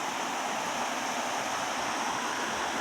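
A farm waterfall hisses in a steady, even wash of falling water that stays faint and constant, with no voices over it.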